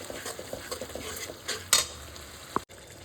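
Fish curry with coriander leaves is stirred in a frying pan: soft scraping and light sizzling, a sharper clatter midway, then a brief bright clink near the end.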